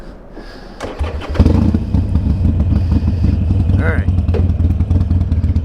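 A Harley-Davidson Iron 883 motorcycle cranks and fires up after a few seconds, then settles into a loud, close, lumpy idle outdoors. Someone speaks briefly before it starts.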